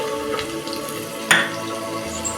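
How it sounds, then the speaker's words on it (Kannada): Field beans (avarekalu) tipped into a hot frying pan over browned ingredients, giving a sudden sharp hiss and spatter that settles into a steady sizzle. "ಅವರೆಕಾಳು ಹಾಕೋತಾ ಇದ್ದೀನಿ"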